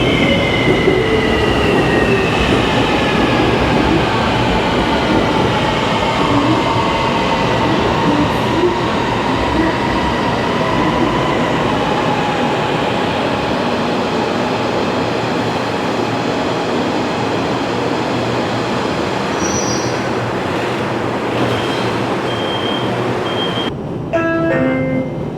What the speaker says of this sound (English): I'm allowed to take video of the trains like this, coming and going